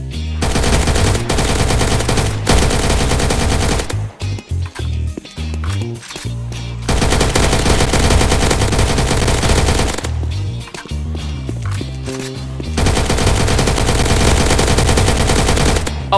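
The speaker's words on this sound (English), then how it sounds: "Fourth one is the AK-12." Loud, close AK-12 automatic fire from the Minecraft APLOK Guns addon, delivered as rapid sustained bursts separated by short pauses, with no talk over it.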